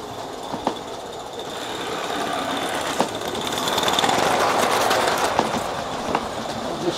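An Aster gauge 1 model steam locomotive, the Titfield Thunderbolt, spinning its wheels on an oily track, giving a steady whirring rush with a few sharp clicks, close and fairly loud.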